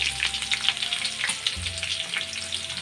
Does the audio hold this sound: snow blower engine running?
no